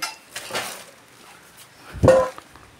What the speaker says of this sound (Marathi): भांडी काढायला मी त्यांना मदत करत आहे